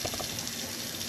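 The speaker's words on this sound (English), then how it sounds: "As you can see, I'm going to be washing it with vinegar and water." Running tap water while pak choy is washed in vinegar and water, a steady close splashing gush at moderate level with no talking.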